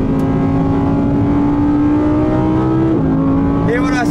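Audi R8 on a race track at night, engine roaring loud and steady at high speed, with a pitch drop near the end as it shifts or lifts.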